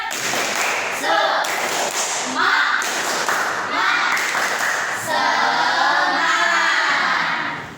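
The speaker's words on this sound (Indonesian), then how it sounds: "Coba mana tepuk semangat?" A classroom of students performs a rhythmic spirit clap, bursts of group clapping and thumping in a patterned beat, with children's voices chanting and talking throughout, close and fairly loud.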